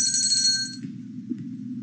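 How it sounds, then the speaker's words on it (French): A bell struck as a cue on a French-language radio talk show, a bright ringing burst with sustained metallic overtones lasting under a second, fading out over a steady low hum of background noise. "Coup de cloche pour diaspora."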